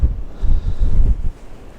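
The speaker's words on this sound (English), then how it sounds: "Some buffeting winds as this system moves to the northeast" Strong wind buffeting a Hilleberg Soulo tent on a misty plateau, low rumbling gusts pressing against the mic for a couple of seconds with no talk.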